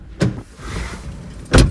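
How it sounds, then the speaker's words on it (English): Inside a car on the road, a low engine and road rumble runs under two sharp thuds near the start and end, with no voices. "Just driving my car."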